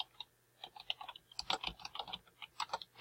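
Quick bursts of typing on a computer keyboard, irregular clusters of crisp key clicks at close range, quiet and without any talking.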